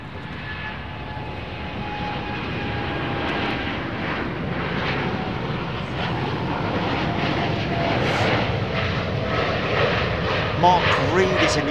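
Boeing 787 Dreamliner jet engines at Chicago O'Hare airport give a broad, steady roar that swells slightly over time, with faint tonal whine lines early on and no speech over it.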